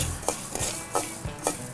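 Chana dal and fenugreek roast in a pan, crackling softly under four regular stirring scrapes.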